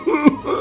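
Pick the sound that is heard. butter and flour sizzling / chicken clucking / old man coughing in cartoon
old man coughing in cartoon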